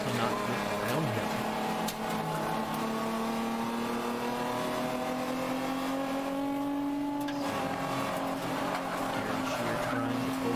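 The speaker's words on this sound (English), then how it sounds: "just the brutal noise that is George Smith's Corvette" George Smith's Corvette race car roars around a track, its engine note rising and falling through gear changes in a sustained, loud, continuous wail with other cars audible around it.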